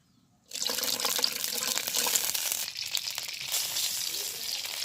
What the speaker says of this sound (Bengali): তেলের ভিতর একটু পানি দিয়ে দিলাম